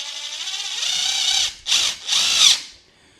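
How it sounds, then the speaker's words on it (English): Ryobi cordless impact driver with a 2 Ah battery, running on the third of three speeds: a loud, close, high-pitched motor whine with rattling impacts, cut by two short pauses into three bursts that trail off. "This is a 3-speed on 3rd speed. I love this impact driver."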